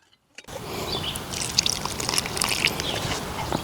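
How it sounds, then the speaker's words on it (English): Homemade liquid fertilizer pours from a jar onto garden plants, a steady close trickle and splash running on for several seconds after a brief silent start. "So now we'll pour the one from our jar"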